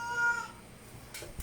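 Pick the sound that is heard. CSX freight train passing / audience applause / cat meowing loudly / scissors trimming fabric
cat meowing loudly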